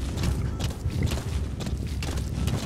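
A horse's hooves clip-clop in the Metal Gear video game, a steady run of close, rhythmic thuds and clacks with no talking over them.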